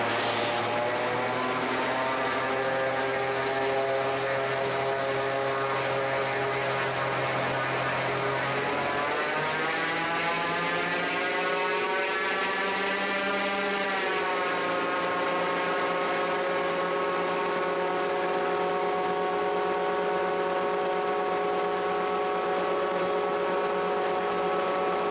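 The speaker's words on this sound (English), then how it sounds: "Engine's performing nicely," Raptor prototype aircraft engine during a high-speed taxi uphill: a loud, steady propeller-engine drone whose pitch climbs sharply as it powers up, then settles into a strong, even whine, with no voices.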